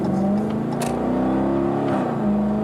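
A 2015 Dodge Challenger R/T accelerates hard, its engine note loud and steady with a rising pitch that holds through the whole stretch, heard from inside the car with no talking.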